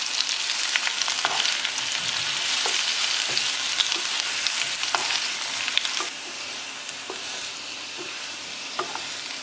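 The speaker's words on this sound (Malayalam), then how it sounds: "നമുക്കൊരു 1-2 മിനിറ്റ് ഇത് എണ്ണയിലൊന്ന് ചെറുതായിട്ടൊന്ന് വഴറ്റാം" Boiled breadfruit sautéing in hot oil in a pan, a steady bright sizzle with occasional stirring scrapes and taps throughout, close and alone with no voices.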